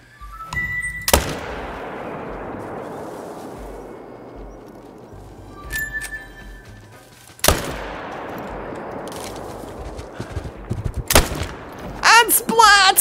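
Rifle shots in the hunting game Call of the Wild, several sharp loud cracks spaced seconds apart, each trailing off in a long rolling echo across open terrain, with a brief voice near the end.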